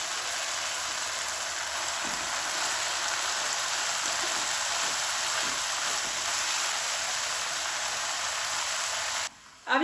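Peas fry in a hot pan with spinach going in, producing a steady, hissing sizzle like light rain. The sound stays even and close for nearly ten seconds, then briefly drops out at the end.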